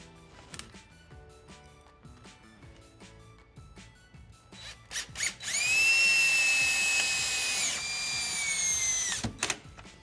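A power drill drives wood screws into a thick tub deck to secure a Delta R4707 deck mount rough-in, with a loud whirring run of several seconds after quieter clicks and handling noises, ending in a short final burst.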